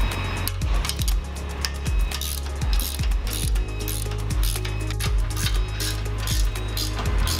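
A ratchet with a 24mm socket tightens the outer nut on an MT900 trencher frame, giving quick, close clicking bursts in an uneven rhythm against low workshop hum.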